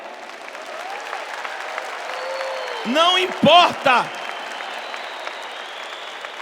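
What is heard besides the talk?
congregation applauding at a church service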